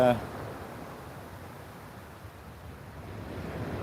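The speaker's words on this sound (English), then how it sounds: "But you can hear the waves." Waves wash onto a shingle beach in a steady broadband rush, with an airy, continuous surf texture and a brief bit of voice right at the start.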